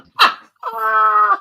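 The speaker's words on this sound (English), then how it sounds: "you heard the dog barking" Rottweiler dog giving one short, sharp bark followed by a longer, drawn-out whining bark-howl, close and loud, with no talk over it.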